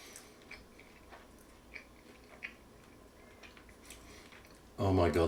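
Chewing on a baked chicken wing in hot sauce, soft wet bites and mouth sounds under a low room background, ending in a loud close burst of noise.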